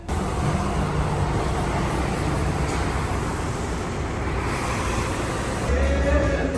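A Jeep drives along a road, giving a steady rumble of engine and road noise from inside the vehicle that stays constant throughout.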